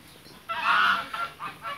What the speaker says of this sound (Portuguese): Esse pato aqui, ó.